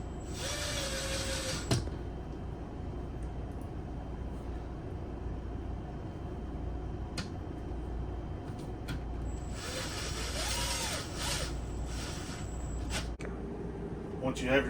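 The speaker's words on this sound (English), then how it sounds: "let's line up our bracket and insert the screws" Screws are driven into a bracket for a retractable RV pet gate, heard as a few short bursts of power-driver whine near the start and again midway, with faint clicks and a quiet background between them.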